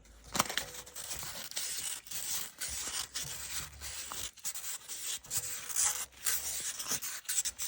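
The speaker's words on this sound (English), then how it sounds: "Just going to give it a quick little cloth." A cloth wipes the face of a rear hub on an L322 Range Rover, making quick, close rubbing swipes in a choppy rhythm at low volume.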